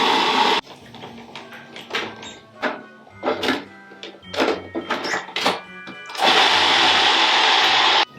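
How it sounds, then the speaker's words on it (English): A blender chops garlic with olive oil and salt, roaring loudly in a short burst, then falling quiet for scattered clunks and knocks before a second, longer steady whir. "we're just gonna blend it, chop it, whatever you want to call it"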